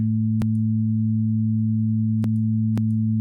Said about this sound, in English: if you do a sine wave, I think it does it better